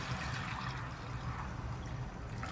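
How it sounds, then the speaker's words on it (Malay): Boiled stock water pours into mee rebus gravy in a cooking pot, a soft, steady liquid stream heard faintly and continuously. "Kita letak air. Air rebusan tadi."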